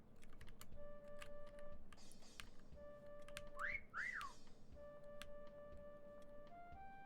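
Whistling in the video game Meccha Chameleon, recurring short steady tones with two quick rising-and-falling swoops in the middle, faint and heard alongside light clicking taps.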